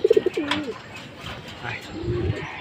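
Pigeons in a home loft, including a red pigeon laying eggs: a quick burst of close, throaty coos at the start, then softer calls and shuffling, with a voice talking in the background.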